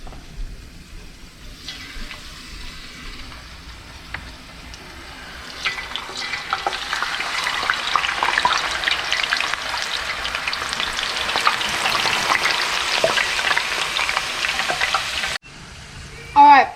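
Potato chips fry in hot oil with a steady, close sizzle that builds and stays loud for most of the stretch, with occasional stirring knocks and a brief drop near the end.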